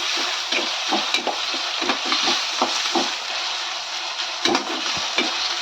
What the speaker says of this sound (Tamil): இப்போ தக்காளியை சேர்த்துக்கிடுவோம். தக்காளியும் நல்லா ஜாம் மாதிரி நல்லா மசியணும். அது வரைக்கும் நல்லா நம்ம வதக்கிடணும்.